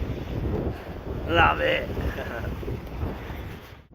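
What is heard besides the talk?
strong wind while sailing a boat in the harbour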